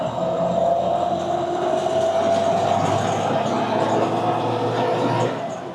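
A 1978 Toyota FJ44 Land Cruiser with a canvas top accelerates along a street through the gears, its engine droning steadily with rattling from the old body, loud and close from inside the cab.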